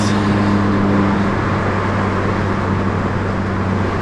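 A Honda Fit with a swapped K24 engine and Gen SI transmission accelerates hard in high gears, a loud, close, sustained engine roar with steady tonal drone throughout.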